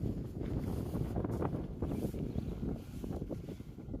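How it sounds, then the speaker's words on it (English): Gusty wind buffets the microphone outdoors at a state park overlook, a dense low rumble that goes on throughout with no clear voices. "This wind is just killing us."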